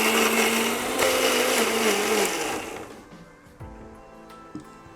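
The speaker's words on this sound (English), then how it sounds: "we'll put this in a blender and we'll blend it to a fine puree" A blender purees coriander, mint, spices and coconut with a little water, a loud steady whir for over two seconds that slows and winds down, followed by quieter clinks and handling noises.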